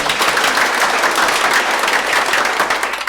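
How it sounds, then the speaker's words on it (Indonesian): Applause from a church congregation at an Easter service, a dense steady patter of many hands clapping together, loud and continuous throughout with no voices over it. "Tepuk tangan untuk adik-adik Miss Dinar"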